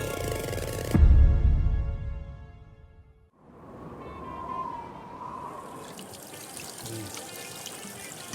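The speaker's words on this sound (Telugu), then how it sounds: "చేతులు కడుక్కొని ట్యాప్ కట్టేస్తా." A tap runs as someone washes their hands at a small tea stall in a Telugu drama film, water pouring and trickling steadily into a basin after a loud splash, with faint background activity.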